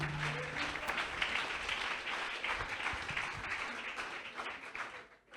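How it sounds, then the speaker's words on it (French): A congregation applauds and cheers during a church testimony, sustained dense clapping with crowd noise that fades toward the end. "Est-ce qu'on peut encore acclamer?"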